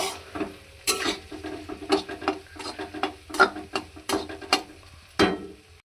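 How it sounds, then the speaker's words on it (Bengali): Vegetables being stirred as they fry in a pan, a close sizzle broken by irregular scraping and clattering strokes of the spoon against the pan, busy and uneven throughout. "সব সবজিগুলো দিলাম দিয়ে ভালো করে মিক্স করব"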